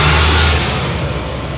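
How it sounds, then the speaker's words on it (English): A loud bus engine close by revs and pulls away, its deep rumble fading slightly as the vehicle gets moving. "the bus is just beginning to move"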